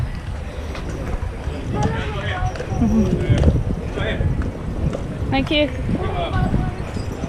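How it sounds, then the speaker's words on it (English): Horse hooves clip-clop along a Charleston street beside a market, with a few steps close by under street bustle and passing voices, while a person speaks briefly. "Watch the horse."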